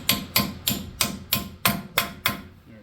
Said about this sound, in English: I'm using a claw hammer because I don't have a dead blow here